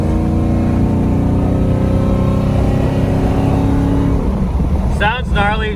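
A Chevrolet Trailblazer SS fitted with PRC cylinder heads and a Texas Speed cam pulls hard from 60 to 80 at three-quarter throttle, its engine roaring loud and steady from inside the cabin, with a voice briefly speaking near the end.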